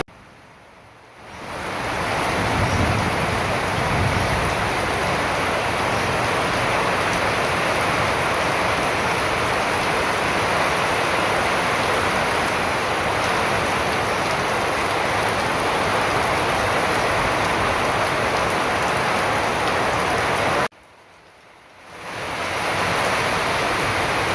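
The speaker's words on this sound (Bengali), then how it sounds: "চোখের দৃশ্যটা দেখেন, বৃষ্টি আর বৃষ্টি" Heavy rain pours onto a pond during a storm, a loud, dense, steady hiss that swells in after a quiet start, cuts out briefly near the end, then returns.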